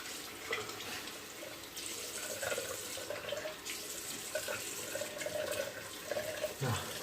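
Tap water runs steadily into a sink to heat a razor, a close, continuous hiss and splash with small shifts in flow throughout.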